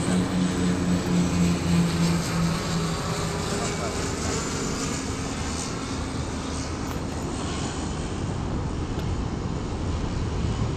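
A fixed-wing airplane's engine drones steadily and loudly throughout, a broad continuous roar with a low humming tone near the start, heard from inside or close by with no other sounds standing out.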